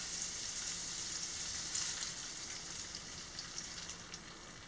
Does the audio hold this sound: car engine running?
no